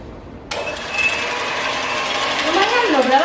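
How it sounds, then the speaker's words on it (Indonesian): Hand mixer whipping dalgona coffee with a little ice water, a steady high whirring motor that switches on abruptly and runs continuously, rising slightly near the end. "Terus pakai hand mixer."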